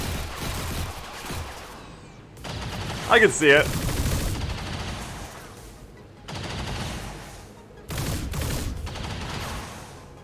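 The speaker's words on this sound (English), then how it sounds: "I can't hear with the gunfire either." Bursts of gunfire from the video game XCOM 2 come in rapid volleys with brief lulls between them. Players talk over and around the shots.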